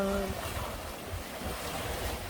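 A soft, steady wash of sea waves and breeze, heard from some distance with no voices.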